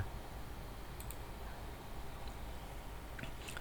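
A computer mouse gives a few faint, sparse clicks over a steady low background hum, with no speech.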